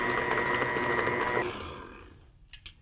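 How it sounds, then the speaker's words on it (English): A stand mixer beats butter for crusting buttercream icing with a steady, loud motor whir that runs for over a second, then fades and winds down, ending in a couple of faint clicks. "wanna beat this until all the lumps are gone from the butter"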